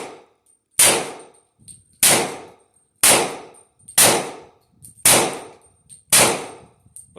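Six evenly spaced, loud pistol shots from a .38 Super 1911 at a shooting range, each a sharp crack with a ringing metallic ping, about one second apart.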